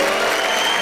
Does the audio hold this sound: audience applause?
yes